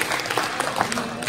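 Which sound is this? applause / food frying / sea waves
applause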